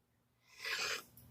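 A single close, fairly soft sneeze bursts out midway, preceded by a quiet intake of breath and followed by faint breathing.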